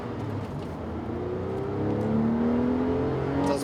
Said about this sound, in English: It does pick up through the gears quite nicely. Nice hum from the engine.